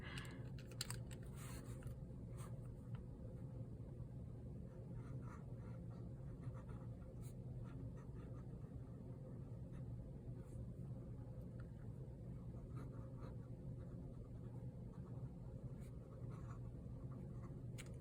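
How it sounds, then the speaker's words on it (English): A fountain pen nib scratching across paper in a writing sample, soft continuous scratchy strokes with faint ticks, quiet and close, over a low steady background hum. "let's go ahead and do a writing sample"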